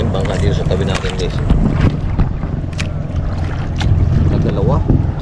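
A big boat churns past close by on open water, a loud steady engine and water rumble mixed with wind buffeting the microphone, while people talk throughout.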